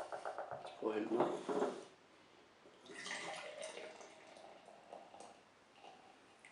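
Thy organic pilsner beer, brewed from organic barley malt and hops, poured from a bottle into a glass, giving a short close gurgle and splash, then a softer fizzing trickle as the glass fills.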